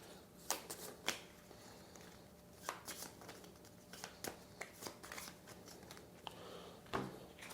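Board game cards for a women's suffrage game are shuffled by hand on a table, a faint close run of crisp riffling snaps and soft slides in irregular bursts.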